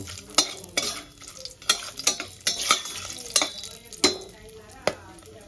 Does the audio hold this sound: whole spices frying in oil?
yes